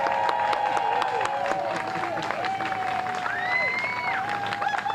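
Outdoor crowd applause for the mayor at a farmers market opening day in Roslindale Village, scattered clapping and murmuring voices mixed with chatter across the open street.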